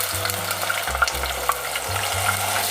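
Onion paste frying in hot cumin-tempered oil for a rajma curry, a steady close sizzle with stirring scrapes and a brief lull near the one-second mark, no voices.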